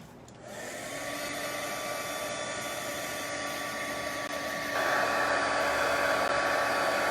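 A handheld heat tool blows steadily over craft ink on a non-porous surface, a continuous whirring hum that starts after a moment and grows slightly louder partway through, with no talking.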